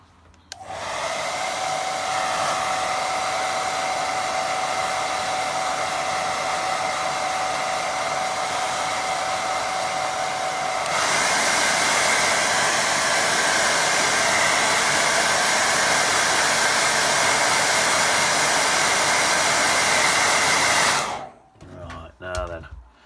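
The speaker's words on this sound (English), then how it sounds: "let's dry that" Hair dryer blowing on a wet watercolour painting, a loud steady whooshing drone that shifts to a higher setting midway, then cuts off with a clunk near the end.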